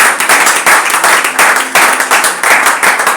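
A church congregation at a Sunday service claps loudly and continuously in a rhythmic burst of applause, close and dense, with no speech over it.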